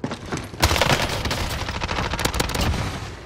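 Rapid gunfire bursts in a Warzone video game gunfight, loud, close and dense, with overlapping shots rattling continuously across the moment.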